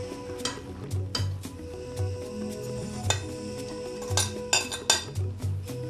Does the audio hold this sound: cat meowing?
no